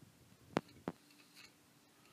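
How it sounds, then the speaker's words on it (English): A line being marked across the top of a full-body mannequin's leg brace: two quick, scratchy pen strokes close by in a quiet room, with no one speaking. "Now we're going to mark the cut line on the top here."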